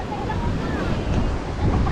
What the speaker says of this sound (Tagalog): Malaki pa rin ang alon at malaki pa rin yung dagat